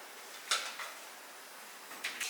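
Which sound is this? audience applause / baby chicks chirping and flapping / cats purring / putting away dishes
putting away dishes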